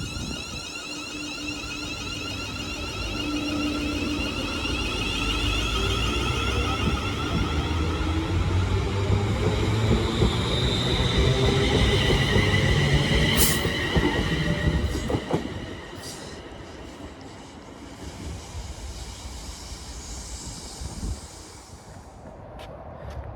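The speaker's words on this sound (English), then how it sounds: "departing now is the 1443 West Midlands Railway service to Birmingham New Street from Walsall" A West Midlands Railway service pulls away from Walsall station, its rumble building steadily with rhythmic wheel clatter, then easing as it recedes, leaving quieter ambient noise at the end.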